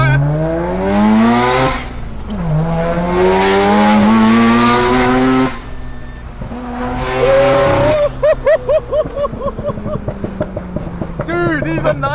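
Two Mazda FD RX7 sports cars on a mountain touge road in Sydney, one with a rotary engine revving hard through the gears, rising and falling loudly with tire noise, then choppy throttle blips near the end.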